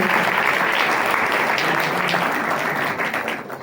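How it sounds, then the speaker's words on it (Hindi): Church congregation applauding loudly, a dense, sustained roar of many hands clapping close up, holding steady before thinning slightly at the end. "इनके लिए जोरदार तालियां हम बजाएं"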